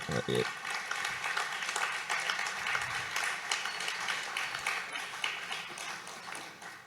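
A crowd applauds in a dense, continuous patter of clapping at a temple festival gathering, moderately quiet and steady throughout.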